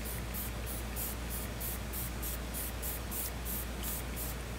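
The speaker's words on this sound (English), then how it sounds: "I have my spray." Hyaluronic acid face spray misted in a rapid series of about a dozen short, even hissing puffs over a low steady hum, close and fairly quiet, with no talking.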